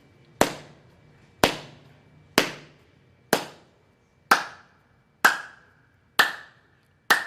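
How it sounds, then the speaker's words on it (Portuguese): Eight sharp, loud hand claps spaced evenly about a second apart, each ringing briefly; the later claps sound higher and brighter than the first four, contrasting low and high claps. "a diferença entre grave e agudo das palmas"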